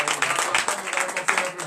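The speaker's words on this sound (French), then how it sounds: "Donnez de vive acclamation à notre Seigneur Jésus" A congregation applauds at a morning prayer service, a dense burst of hand claps with a few sharper individual claps poking through, moderately loud and steady over a faint voice underneath.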